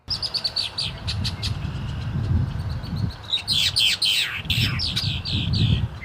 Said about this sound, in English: Mostly what we're hearing around us is the red-winged blackbirds competing for territory or space.